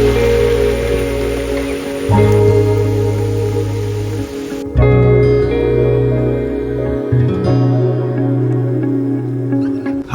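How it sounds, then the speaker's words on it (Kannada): Heavy monsoon rain pours steadily during a motorcycle ride in the Sakleshpura hills, a loud, continuous hiss over a droning engine hum, with a sudden shift in tone midway and no voices. "ಫುಲ್ ಮಳೆ ಬರ್ತಿದೆ"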